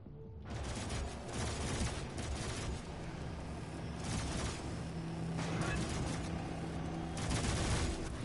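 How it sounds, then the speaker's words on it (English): Gunfire in the video game Doom (2016), a continuous heavy barrage of rapid shots and blasts that keeps rolling loudly for several seconds, with surges of firing throughout. "There's a lot of shooting going on."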